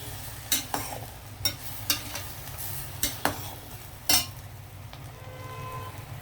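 An eggplant, drumstick and plantain curry stirred in a pot makes a low simmering sizzle, with sharp utensil clinks and scrapes against the pan every second or so, close up and without talk.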